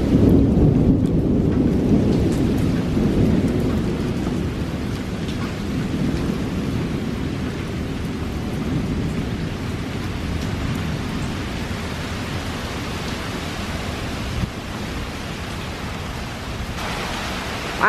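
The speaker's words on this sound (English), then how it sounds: "It's raining a little bit. It's super windy out here." Steady heavy rain roars alongside deep rolling thunder and gusting wind, loud and continuous with no voices.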